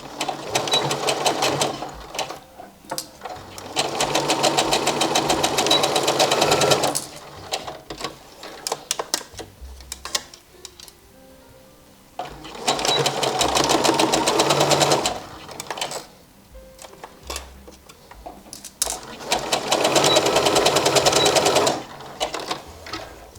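A sewing machine stitches a seam on a shirred top in three long, loud bursts of rapid mechanical whirring, separated by quieter pauses of handling.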